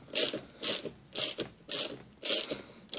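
A socket ratchet turning a motorcycle chain breaker tool gives five or six quick, close bursts of sharp clicking, evenly spaced with short pauses between strokes.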